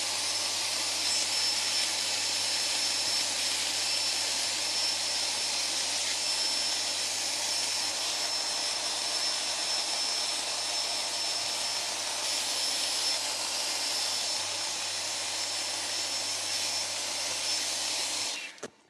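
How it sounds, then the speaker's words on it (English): A vacuum cleaner roars steadily and loudly up close while dust is cleaned off an Amiga 1200 computer, a constant whine running unbroken before cutting off at the end. "this is going to get loud because I'm turning the vacuum cleaner on"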